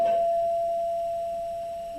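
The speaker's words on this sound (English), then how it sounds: "Somebody rang my doorbell." Doorbell at a home giving a single sustained electronic chime that rings out clearly and slowly fades, heard alone without any voices.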